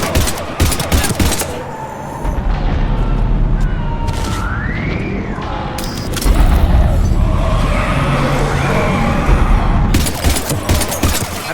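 Gunfire against husks in Mass Effect 3, loud bursts of automatic shots and booms opening and closing the fight, with a rushing, chaotic battle din in between.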